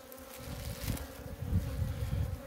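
Steady droning buzz of many honey bees around a hive, a dense continuous hum that swells slightly partway through.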